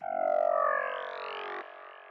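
A synth one-shot preset called Indus Noise, run through delay: a bright, sustained layered tone with rising harmonic sweeps that swells, holds steady, then drops to a quieter echo tail, heard alone without talk.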